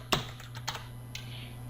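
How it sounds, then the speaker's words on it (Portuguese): A few sharp keystrokes on a computer keyboard as a password is entered, three or four isolated taps spaced apart over a steady low electrical hum. "Vou digitar a senha correta."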